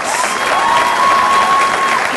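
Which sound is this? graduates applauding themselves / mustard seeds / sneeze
graduates applauding themselves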